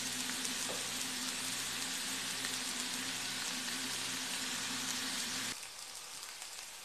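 Onions sauté in a pan with olives for liver and onions, a steady close sizzle and crackle of frying that drops abruptly to a quieter hiss near the end; no one speaks.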